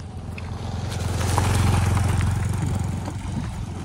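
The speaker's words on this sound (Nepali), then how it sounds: "बाइक आउँदैछ।" A motorcycle engine rumbles on a rural farm road beside maize fields in Koshi Tappu, Nepal, growing louder toward the middle as it draws near, then easing slightly as it passes.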